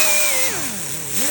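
A coral stripping disc grinding body filler off a car panel gives a loud, close, whining tone that sags and rises in pitch as the load changes, with no talk.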